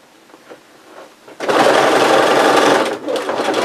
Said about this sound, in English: And then sew it together.